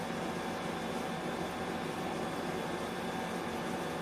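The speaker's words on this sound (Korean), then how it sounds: "창문형 에어컨은 팬과 컴프레서에 의해 소음이 발생하게 됩니다" A window air conditioner's fan and compressor run as a steady, even broadband hum and whoosh, faint and constant throughout with no voices.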